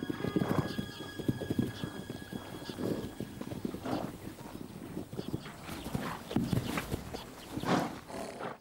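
Small, hardy Mongolian horses in a harsh climate clatter past with a steady stream of hoofbeats and repeated whinnies, fairly faint and mid-distance.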